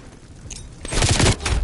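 LC10 submachine gun firing in Call of Duty, a rapid close burst of shots starting after a brief quieter lead-in.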